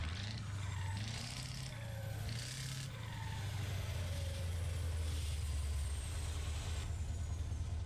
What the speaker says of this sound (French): Écoute-moi ce turbo qui siffle en arrière-plan.